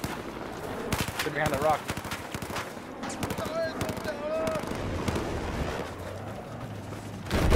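Dense Battlefield 4 gunfire on the Silk Road map: rapid bursts of automatic shots, close and loud, with a brief whistling tone and voices talking over the shooting.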